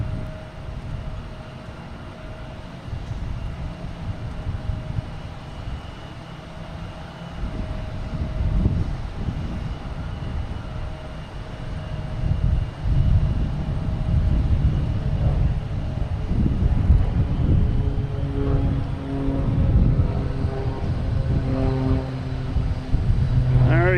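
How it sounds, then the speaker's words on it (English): A Cape Air Cessna 402 twin-engine plane near Boston Logan Airport, its engine drone rising gradually out of background rumble and growing louder toward the end, heard alone without speech. "We have a Cape Air heading to Bahaba, Cessna 402."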